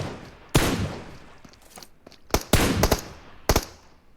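Gunfire in PUBG Mobile on the Livik map: sharp loud bursts of automatic fire, one near the start and clustered volleys later, with faint footsteps in the quiet gaps.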